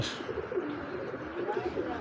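A female racing pigeon coos softly and repeatedly in a low, murmuring rhythm, close by, with faint background noise and a little talking.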